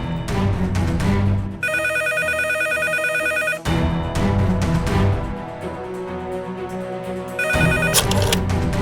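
An electronic phone ring trills in two long bursts with a pause between, set against a loud, busy background of music and noise in a Hindi TV drama.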